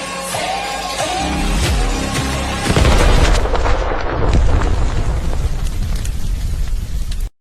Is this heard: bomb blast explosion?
yes